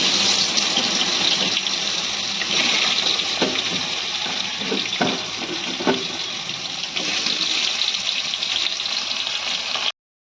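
Raw banana pieces coated in turmeric and salt fry in oil in a kadai, producing a loud, dense, continuous sizzle that holds steady for about ten seconds before cutting off abruptly.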